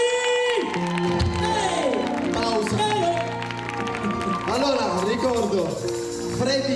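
An outdoor municipal amphitheatre audience claps and cheers continuously, a dense crowd roar with whoops mixed under a loud amplified voice speaking over it.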